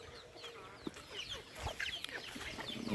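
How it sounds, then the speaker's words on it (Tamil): Chickens and chicks cluck and cheep nearby on a poultry farm, with several birds calling over one another in a steady, busy chatter. "இதுங்கெல்லாம் அந்த தாய் கோழியிலேருந்து பிறந்த கோழி குஞ்சுகள்"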